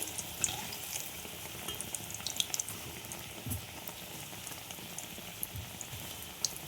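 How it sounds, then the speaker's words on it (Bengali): Bread pakora fries in hot oil, a faint, steady crackling sizzle with small scattered pops throughout. "আমি একটা একটা করেই ভাজবো দেখো এইভাবে তেলগুলো একটু ছড়িয়ে দিলে সুন্দরভাবে"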